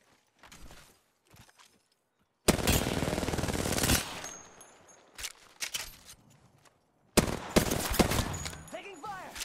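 Bursts of rapid automatic gunfire from R-99 and Alternator weapons ring out in the video game Apex Legends, two loud sustained volleys separated by footsteps and small clicks, with no talk.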